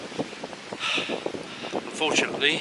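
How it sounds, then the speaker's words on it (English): Strong, bitterly cold wind buffets the microphone on a bright day near Montgomery, gusting steadily while someone talks over it. "Strong, bitterly cold wind blowing"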